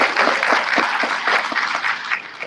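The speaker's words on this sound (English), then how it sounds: "Please give him a round of applause." Audience at a congressional district political convention breaks into sustained applause, a dense, steady wash of many hands clapping at close range with no voices over it.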